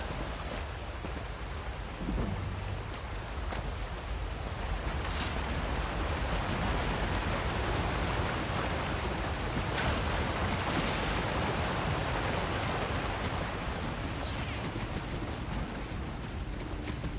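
Waterfall in the video game The Elder Scrolls Online, a loud, dense, continuous rushing roar of falling water with steady broadband hiss and occasional heavier surges, close and unbroken.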